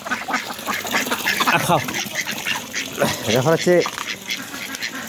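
Domestic ducks quack at feeding time, several nasal calls bursting close by in short clusters while a person talks over them.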